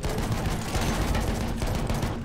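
Battlefield 1 gunfire rattles in a dense, continuous fusillade of close, overlapping rifle and machine gun shots with no pause, and no one talks.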